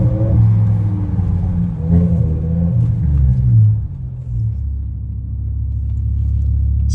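A straight-piped BMW E60 M5 with its S85 V10 revs and pulls on a wet road, a loud, raspy engine roar that rises, then drops back to a deep rumbling idle-like drone.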